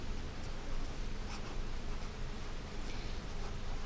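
Writing on a board during a 7th grade lesson on the surface area of prisms: a steady, close scratching of strokes runs continuously for a few seconds against a noisy room hiss, with no talking.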